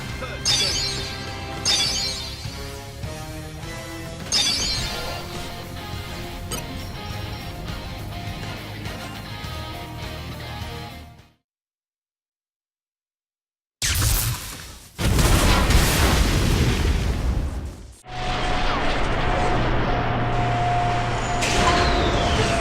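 A Mega Explosion combo attack in Xenoblade Chronicles 2: after a stretch of battle music and effects, a brief silence gives way to a loud, bright crashing blast that flares, dips, then carries on in a dense roar.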